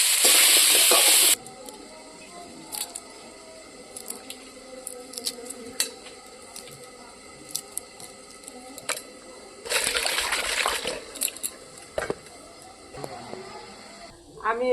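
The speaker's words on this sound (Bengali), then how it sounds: "এখন আমি আলুগুলো ভাজি নেব" Potatoes fry in a pan for a Bengali egg curry, a steady low sizzle broken by stirring scrapes and clatters, with louder bursts of hissing at the start and again midway, close by.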